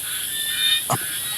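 A land frog gives a single short croak in a Thai field during a hunt for giant water bugs and apple snails, standing out briefly against a steady high insect-like hiss.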